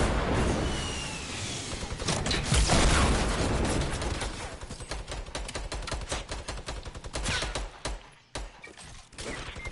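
Enemy gunfire in the video game Fortnite, rapid bursts of shots rattling loudly and almost continuously, then thinning into sparser cracks toward the end, with no voices heard.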